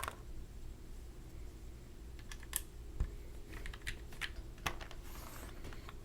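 Keystrokes on a Boardwalk mechanical keyboard fitted with GMK Calm Depths keycaps, heard as a soft, steady stream of taps with a few sharper clacks, alone and fairly quiet with no talking.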